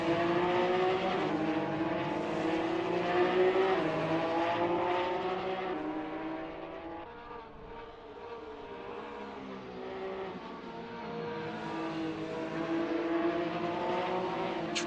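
Porsche Cup race cars circulate at the Nürburgring, engines holding high revs in a loud sustained whine that shifts pitch through gear changes, dips briefly mid-run, then climbs again, with several cars layered close together.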